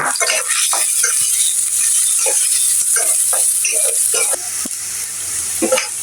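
Chopped onion fries in a pan for chicken curry, a loud, steady sizzle throughout, overlaid with repeated scraping and rattling from stirring, with no voices.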